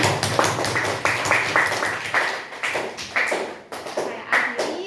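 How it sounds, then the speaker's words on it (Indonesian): Short bursts of applause from a small classroom group, about eight distinct rhythmic rounds of hand clapping in close succession, fairly near and moderately loud. "mari kita tepuk tangan untuk kita semua"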